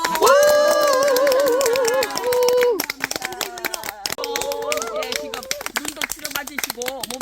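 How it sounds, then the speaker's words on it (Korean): Audience at a regular barefoot-walking club gathering claps for their exercise instructor; a loud voice and music-like tones open, then dense, steady clapping from a group fills the rest, with voices calling out over it. "체조해 주신 우리 윤명자 강사님께 감사의 박수!"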